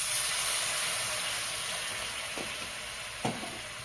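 Egg halwa cooking in a pan with ghee and rose water sizzles with a steady, moderate hiss, and two brief scraping knocks from stirring come near the end.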